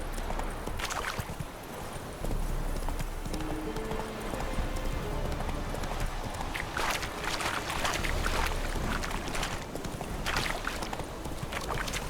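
Roach, the horse in The Witcher 3, gallops with quick, continuous hoofbeats that sound close and steady, along with faint background game sounds.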